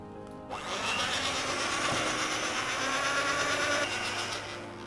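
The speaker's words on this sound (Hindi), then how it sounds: "और इसको फिर से मशीन को एक बार चला देते हैं।" A kitchen mixer machine whirs steadily as it blends a thick protein bar mixture, a loud continuous motor drone starting after a brief pause and running without a break.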